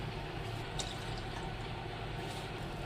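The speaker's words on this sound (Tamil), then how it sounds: "ஒரு 2 கிளாஸ் தண்ணி ஊற்றிக்கலாம்." Two glasses of water poured into a pot of chicken to boil it for chicken noodles, a close, steady splashing and filling sound running continuously without speech.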